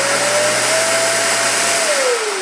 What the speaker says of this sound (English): it's about the sound of a regular vacuum